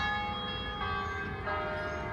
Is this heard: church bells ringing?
yes